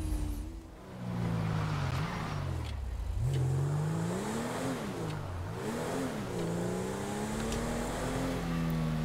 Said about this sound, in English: That car just wheel spun off and now I'm pretty sure he's speeding.